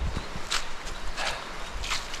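Footsteps walking along a wet trail past streams near a remote cabin during a rainstorm, a handful of soft irregular steps, fairly close and quiet, alone without talk.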